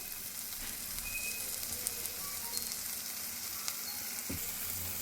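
Spice paste for an eggplant curry fries in hot oil in a pan, a steady close sizzle and crackle with a few faint clicks and taps, no voices.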